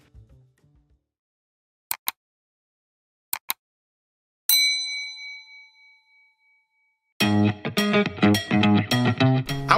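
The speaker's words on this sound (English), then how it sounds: "hit the bell to activate notifications that will remind you when we're on" A bright notification bell ding rings out, preceded by a few short clicks and trailing off in a clean decaying tone, then a burst of music follows.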